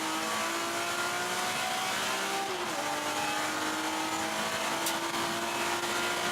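Onboard an open-class BMW race car at Manfeild, the engine roars continuously as it climbs through the gears down a straight, with a brief dip at each shift.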